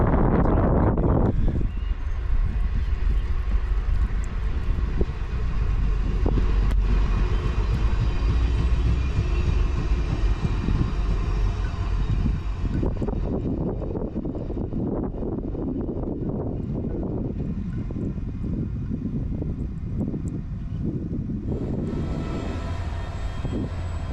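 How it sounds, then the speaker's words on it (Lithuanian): The Vilnius–Mockava passenger train arrives at Kazlų Rūda station with a loud, sustained rumble of engine and rolling wheels, swelling early and then gradually easing as it slows. "Atvažiuoja traukinys Vilnius-Mockava."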